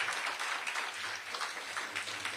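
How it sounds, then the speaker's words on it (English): An audience at a border summit applauds law enforcement in the room, producing a steady, fairly faint wash of clapping from many hands throughout. "give a round of applause for law enforcement that's in this room"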